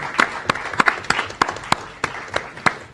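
A small group applauds committee members at a community meeting, with sparse, distinct hand claps landing in an uneven rhythm, close and fairly clear, with no one speaking over them.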